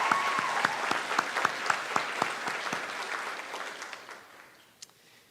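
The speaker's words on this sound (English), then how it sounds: "Let's do another round of applause." An audience applauds after a song at a high school graduation ceremony, full clapping that thins out and fades over the last second or two.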